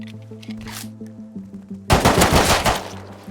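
AK rifle fire in the survival game Rust: scattered distant shots over a low hum, then a loud close burst of rapid automatic gunfire near the end.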